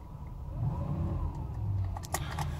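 A Mercedes car during a test drive after an electronic throttle module check makes a gentle, moderate engine rise under light acceleration, heard from inside, with a brief click near the end.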